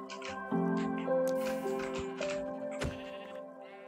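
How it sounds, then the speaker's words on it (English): Sheep in Minecraft bleat several times in quick succession, wavering baa calls close up and fairly clear over faint background game sounds, without talking. "There's a ton of sheep here."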